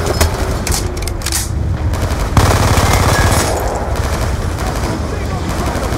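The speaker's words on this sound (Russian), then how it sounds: "У них на балконе тяжелый пулемет!" Heavy machine gun fire in the Call of Duty: Black Ops 2 video game, dense and continuous, with rapid bursts blending into a loud, sustained battle din throughout.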